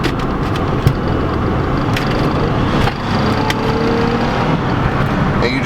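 Steady engine and road noise from a 2004 Nissan Maxima pulling away after a two-gear downshift, a continuous close drone throughout with a brief dip near the middle.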